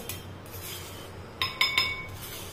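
Soaked tamarind is strained through a metal sieve over a low steady background hum, and three sharp metallic clinks ring out in quick succession in the second half.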